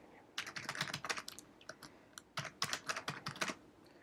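Rapid keystrokes on a computer keyboard while filling in a bank account application form, clicking in irregular bursts with short pauses, close and fairly quiet, no voices.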